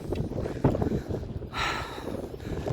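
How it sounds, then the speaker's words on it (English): Chilly outdoor wind buffets the microphone on a walking route between Pirot and Manastir Sukovo, a steady low rumble with a brief stronger gust midway. "There's a chilly wind."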